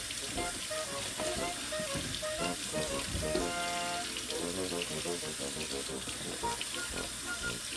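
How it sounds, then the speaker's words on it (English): Tap water runs steadily into a sink while cabbage is washed beneath it, a continuous close splashing rush with faint clinks and no talking. "We wash the cabbage like this."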